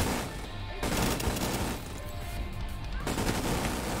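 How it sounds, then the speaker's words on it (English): A minigun firing in the shooter The Division 2: a sustained rattling stream of rapid shots in loud bursts with brief gaps, close and dominant throughout. "Ooh, minigun!"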